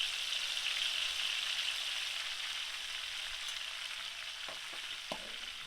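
Spice paste sizzling steadily in hot cooking oil over medium heat for pork satay, a loud continuous frying hiss close up, with a few soft knocks near the end.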